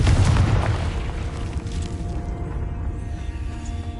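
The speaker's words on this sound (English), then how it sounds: "Confringo!" A deep, heavy blast from the Confringo blasting spell in a Harry Potter game booms loudly at once, then fades into a long rumbling tail with lingering crackle.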